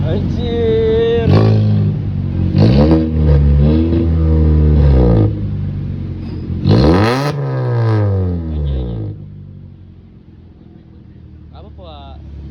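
A Honda Brio fitted with an Alpino full-system exhaust revs in bursts, its engine note rising and falling loudly and close by, with people talking over and between the revs.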